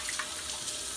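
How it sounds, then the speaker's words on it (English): Cold tap water runs steadily over a six-pound homemade corned beef brisket being rinsed in a kitchen sink, a continuous close splashing hiss with no talking. "you want to rinse it off with cold water"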